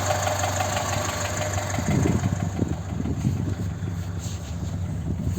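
A Ford Sierra 1.6 OHC engine with a Solex 2108 carburetor and modified exhaust idles steadily with a low, uneven rumble and rhythmic knocking, heard up close with some wind buffeting the microphone.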